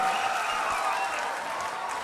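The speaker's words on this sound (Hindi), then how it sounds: "जोरदार तालियां बजाएंगे" A crowd of college students at an induction program in Patna applauds loudly, producing a dense, continuous wash of clapping with no breaks across the whole stretch.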